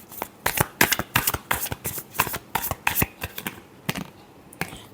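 Tarot cards are shuffled by hand in a rapid, close series of crisp riffling bursts, about a dozen in quick rhythm, with no talk over them.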